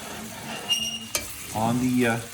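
Bacon stirred through melting brown sugar for candied bacon, giving a soft sticky sizzle with a few scraping utensil clicks and a denser bubbling stretch toward the end.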